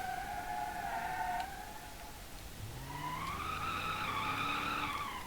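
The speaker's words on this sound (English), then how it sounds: "A lot of one tyre fires with this car because it's got a rubbish diff at the rear." A Bruckell Moonhawk four-door sedan spins one rear tyre in BeamNG.drive, its weak rear differential letting the wheel squeal in a loud, sustained skid that rises in pitch partway through, with no talking.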